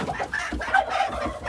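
Araucana hens cluck and squawk in a busy, agitated chorus close by as they fight, overlapping calls in quick irregular bursts.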